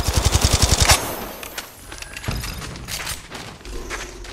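Automatic weapon fire from the mobile battle royale game Apex Legends Mobile: a rapid, loud burst of about a dozen shots opens, followed by scattered distant gunfire, impacts and game effects.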